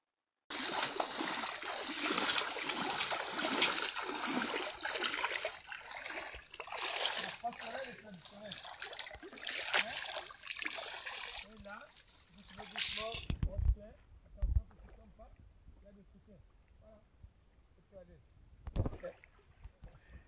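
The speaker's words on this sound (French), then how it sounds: "Ruisseau, ce beau ruisseau. Très clair d'abord." Clear stream flowing outdoors in the Pool region of Congo-Brazzaville: a steady broadband water rush, fairly close, fills the first half, then drops away to quieter trickling and a few splashes as the person recording moves along the bank.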